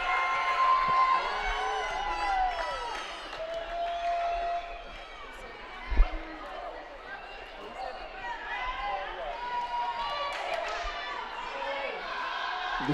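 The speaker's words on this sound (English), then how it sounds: "The crowd still behind the Lopes." Arena crowd at a women's college volleyball match between the Lopes and Utah Valley, a steady roar and cheering throughout, with a sharp thump near the middle and an announcer's voice over it.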